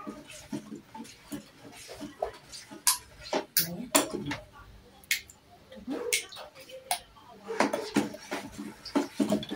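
A spoon or stirrer is worked around a container of homemade dishwashing liquid, giving close, irregular clinks and scraping knocks.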